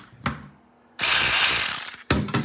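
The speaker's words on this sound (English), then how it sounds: "Gives me a chance to use my new offset socket driver." An offset ratcheting socket driver working the sump nuts on a vintage British motorcycle, loud close bursts of rapid ratchet clicking separated by short pauses, with no talking.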